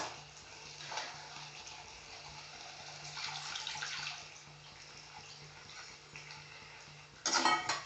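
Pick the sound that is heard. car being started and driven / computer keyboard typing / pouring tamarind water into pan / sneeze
pouring tamarind water into pan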